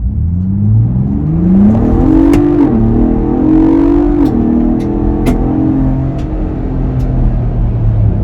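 A Ford Bronco Raptor launches hard from a stop to 60 mph, its engine roaring loud and close as the pitch climbs and drops through several gear shifts, no talking.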